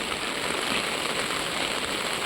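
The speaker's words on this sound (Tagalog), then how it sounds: "Lakas na ng ulan." Heavy rain pours down in a dense, steady hiss, continuous and fairly loud with no voices.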